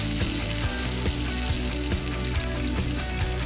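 Broth poured into chicken cooking in a pot for tinola, a loud continuous bubbling sizzle with a steady ticking rhythm running through it, close and unbroken.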